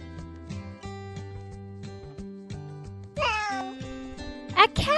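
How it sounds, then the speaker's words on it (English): A cat meows twice, up close and clear, over a light children's tune with a steady bouncing rhythm. "A cat makes that sound."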